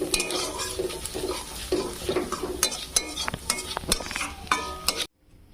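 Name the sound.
flattened rice (chira) frying in white oil with salt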